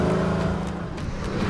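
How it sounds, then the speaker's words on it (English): A 2018 Mercedes-AMG GLC 63 S with AMG switchable sports exhaust, its engine giving a steady deep, loud drone with a low rumbling note throughout, close and unaccompanied by talk. "With an AMG switchable sports exhaust system, it sounds just as good as it looks"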